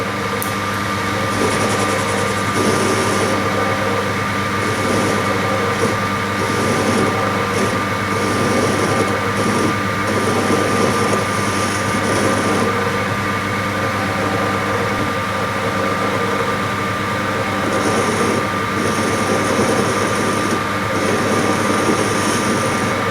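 Steady whirring drone of a wood lathe running in reverse while turning a wooden dowel on a screw-on chuck, continuous and fairly loud with a constant hum and faint intermittent higher scraping from light cuts.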